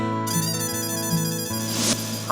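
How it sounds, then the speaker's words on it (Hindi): A phone rings continuously as someone places a call, an electronic tonal ringtone melody with a steady repeating pattern, loud and close, with no voices. "मैं हंस को फोन करती हूँ।"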